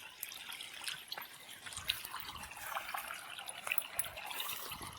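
Water runs for watering tomato seedlings in a village field, a faint, steady trickle and splash heard from close by, with no voices.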